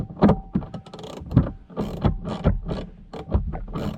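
A screw being threaded in by hand during a premium sound system retrofit on a Volvo P2 S60, V70 or XC70: a run of small, close, irregular mechanical clicks and scrapes with no voices.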